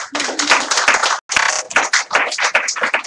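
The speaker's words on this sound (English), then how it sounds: "Let's give God a mighty clap for the word." A church congregation claps together after a sermon, a loud dense burst of hand claps with a brief pause near the middle before the clapping resumes, fairly close and without talk.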